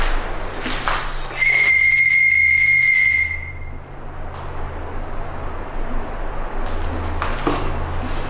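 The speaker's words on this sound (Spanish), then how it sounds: "su silbato de la muerte, que sirve como una especie de invocación para las entidades del lugar" A death whistle blown at a paranormal site to summon spirits gives one loud, shrill, steady tone lasting about two seconds, then cuts off into a noisy background.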